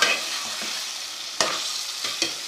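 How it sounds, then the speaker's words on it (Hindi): Potatoes fry in a pan for aloo methi sabzi, a soft steady sizzle with a few sharp scraping stirs of a spoon against the pan, close and without talk. "थोड़ा सा भून लेंगे आलूओं को"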